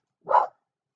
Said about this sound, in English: She's not going to be barking like this.